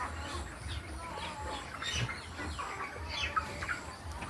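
Hens clucking and chirping in a steady, moderately close chorus, with scattered sharper calls and no clear speech over them.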